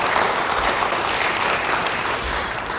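A church congregation applauding during a sermon, a brief, loud, continuous burst of many hands clapping together.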